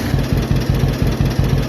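A restored tractor engine runs at idle, close and loud, with a steady low throb and regular firing pulses repeating about five times a second, with no talk over it.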